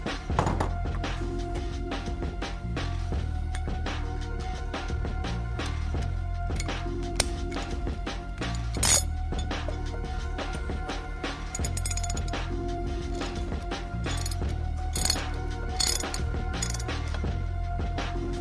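A ratchet tightens the axle bolt on a sport bike during a Galfer brake pad and caliper install, giving steady, repeated close mechanical clicks with occasional metallic clunks.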